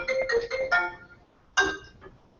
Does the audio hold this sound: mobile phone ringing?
yes